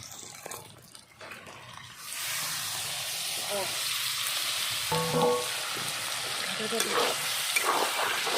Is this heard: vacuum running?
no